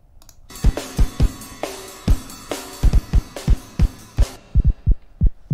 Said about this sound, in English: let's listen to some audio examples here, for instance, on these drums that the developer is testing it